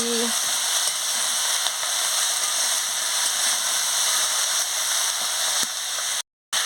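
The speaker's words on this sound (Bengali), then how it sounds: "ভালো করে আমি নাড়িয়ে নিচ্ছি।" Small fish curry sizzles steadily in a pan as it is stirred while frying, a dense continuous hiss throughout with a brief dropout near the end.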